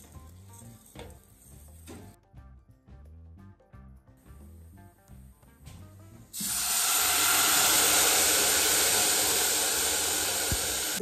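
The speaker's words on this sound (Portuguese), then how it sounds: "E aqui eu inicio refogando o arroz arbóreo" Arborio rice sautéing in a pan for a simple risotto: quiet background music gives way to an abrupt, loud, continuous sizzle that holds steady to the end, with no talking.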